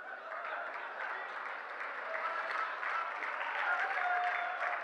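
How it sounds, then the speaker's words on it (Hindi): An audience at a Hindi comic poetry event applauds steadily and evenly for several seconds, a dense wash of clapping heard alone without talk. "ये राजस्थान के लोग हैं, धीमी तालियां क्यों बजा रहे हैं?"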